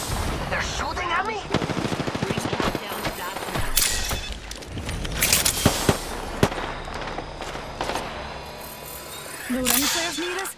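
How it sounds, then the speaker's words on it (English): Gunfire in the video game Apex Legends, rapid bursts and single loud shots with sharp impacts throughout, mixed with game effects and a voice speaking over the action. "I'm taking fire."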